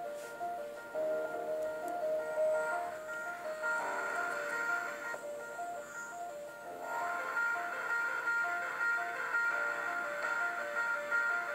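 Tinny, thin-sounding music plays steadily at low volume through a homemade speaker, with a simple repeating melody and no voices.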